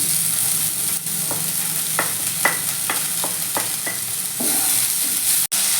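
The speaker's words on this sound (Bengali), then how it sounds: "এবার আমি এটাকে একটু দু তিন মিনিট একটু মিডিয়াম ফ্লেমে একটু ফ্রাই করে নেব" Beans and vegetables fry over a medium flame for a restaurant-style chicken soup: a steady, close sizzle with about eight sharp spatula scrapes against the pan, and no talking.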